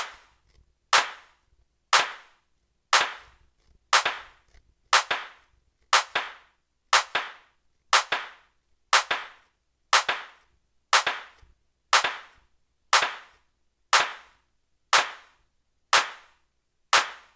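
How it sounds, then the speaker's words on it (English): Sharp clap samples from an Akai MPC One trigger in a steady beat about once per second, each a crisp snap, some doubled with a slightly offset second hit, loud with nothing else. "so that's 2 claps"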